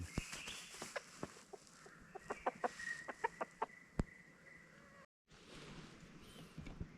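A decoy chicken clucking on a jungle fowl hunt, giving a series of short, sharp clucks in an irregular rhythm at moderate distance over a quiet outdoor background.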